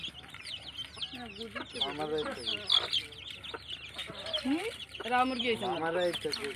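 Several chickens cluck busily close by in uneven bursts, with people's voices now and then in the background.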